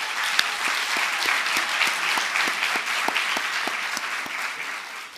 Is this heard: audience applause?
yes